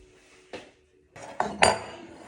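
Soup with lemongrass ladled into a bowl, heard as a few sharp clinks and scrapes of utensil against dishware, the loudest clatter near the end.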